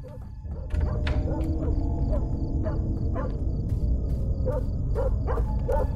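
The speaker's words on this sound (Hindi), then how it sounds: "कुत्ता भौंक रहा है मेरा" Dog barking in the horror video game Fears to Fathom, a run of short barks repeating over a steady background hum, moderately loud and without speech.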